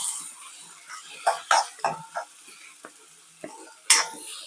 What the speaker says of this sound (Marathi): परतवून घेऊया छान.